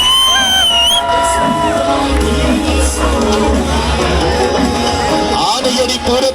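Festival crowd at the Anayadi Pooram temple festival, with elephants present, roars and whoops loudly and continuously, with shrill shouts and whistles rising over a dense, near wall of cheering voices.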